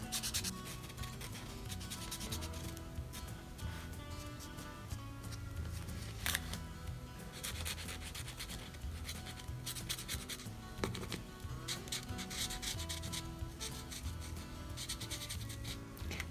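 Posca paint pens scratching and rubbing steadily across paper, a continuous dry scraping texture heard close up over a steady bed of background music.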